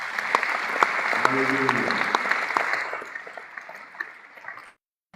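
A church congregation applauds steadily through a worship service, the clapping dense and continuous, with a voice calling out over it and a brief sung phrase before the applause thins and stops near the end.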